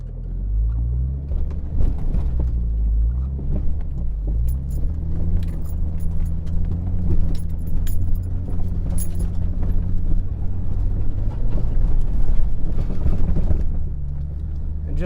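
A truck fitted with snow spikes pulls slowly out of snow, its engine idling low and steady up close with crunching and jingling of the spikes over about fifteen seconds.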